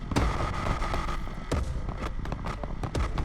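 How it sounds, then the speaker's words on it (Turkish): Rapid, loud popping bursts crackle repeatedly over a steady engine rumble as a Mustang Foxbody's exhaust backfires in quick irregular bangs in Need for Speed Unbound. "Şöyle bir egzoz sesi"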